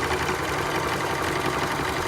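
A sewing machine stitches stretchy fabric for ruffled leggings, a continuous close mechanical whirr and rapid needle vibration running steadily without pause or speech.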